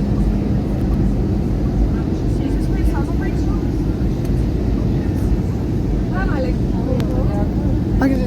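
Steady, loud engine and air roar fills the cabin of an Airbus A320 airliner on approach to Belfast, a constant broadband drone with a faint voice talking underneath.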